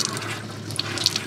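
Water flows through the taps of a camper van once its pump is switched on, a close, continuous hissing rush with small splashy spurts and no talking.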